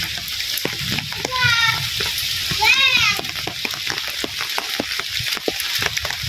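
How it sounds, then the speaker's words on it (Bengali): Rain falls outside a home in a steady, soft hiss with scattered drip-like ticks, and a couple of brief high, wavering voice-like calls break through partway. "বৃষ্টি শুরু হয়ে গেছে।"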